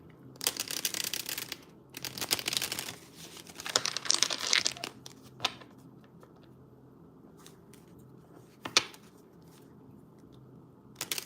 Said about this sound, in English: I'm shuffling up your cards.